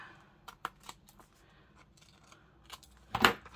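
Scissors snip through vellum paper in a few sharp cuts, the last one loudest, with faint rustling in between and no talk.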